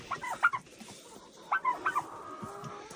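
A few short, bubbly gobbles and clucks from a turkey nearby on a homestead, in brief bursts with pauses between them, over a soft background murmur.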